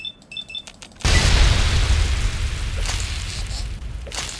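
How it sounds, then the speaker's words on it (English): In Fallout 3, a fire-breathing enemy unleashes a sudden roaring blast of flame after a few short electronic beeps, a loud rumbling burst that holds and slowly fades. "I forgot these ones breathe fire"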